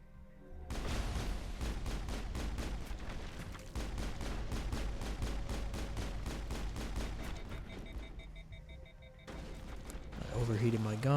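Rapid automatic gunfire from the video game Mass Effect, sustained bursts of shots close and loud, briefly pausing then resuming, with some voice-like tones near the end.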